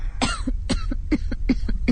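Five short, sharp coughs in quick succession, close and fairly loud, with brief pauses between them.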